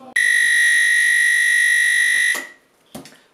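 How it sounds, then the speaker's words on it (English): A yam pounding machine's alarm sounds once steaming is finished: one loud, steady high-pitched electronic tone lasting about two seconds, followed by a short clunk and a brief knock. "The alarm has gone off on the yam pounding machine"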